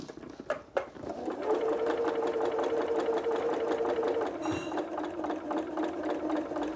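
A sewing machine stitches a quilted rug, humming close up in a rapid, even run of needle strokes with a faint rattle, after a couple of brief knocks at the start.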